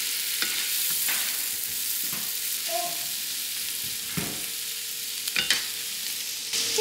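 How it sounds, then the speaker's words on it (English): Onions and mushrooms sautéing in a pan at home, a steady hiss of frying with occasional scraping stirs and light clinks of a utensil, close and continuous. "I'm gonna start sauteing some onions and mushrooms"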